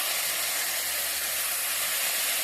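Water poured onto sugar in a hot wok, for making an olive preserve, hisses loudly and steadily with a dense, even steam sizzle for the whole moment, with no voices.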